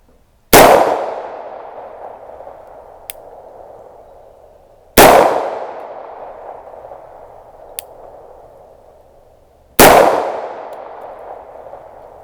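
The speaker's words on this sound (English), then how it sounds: "All right, let's shoot these over the chronograph, see what we get." Three loud, sharp 9mm pistol shots are fired over a chronograph, spaced about four to five seconds apart. Each crack is followed by a long echoing tail that fades before the next shot.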